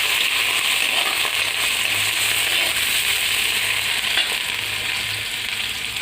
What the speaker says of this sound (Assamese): ধুই পেলাই এনেকৈ আলুটো ফ্ৰাই কৰিছোঁ।